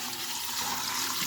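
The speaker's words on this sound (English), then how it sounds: "I'm going to take my salt brine and I'm going to pour it on top." Salt brine pours steadily into a jar packed with pickles and dill, a continuous splashing, gurgling stream close by with no voices.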